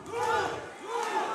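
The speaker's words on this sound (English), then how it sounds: "And the crowd is chanting Lou." A crowd at a powerlifting meet chants the lifter's name, Lou, in two long, rising-and-falling shouts that carry loudly through the venue.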